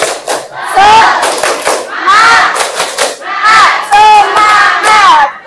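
A class group claps in rhythmic bursts and shouts an encouragement chant in unison during a school lesson, loud and close, with repeated cheering phrases between the claps.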